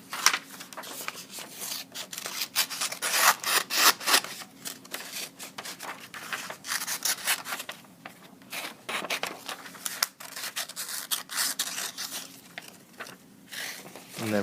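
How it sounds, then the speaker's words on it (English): Scissors snip through paper along dotted lines in a classroom craft, giving a busy run of close, crisp cutting and rustling strokes that continues with brief pauses throughout. "And then cut on the dotted lines again."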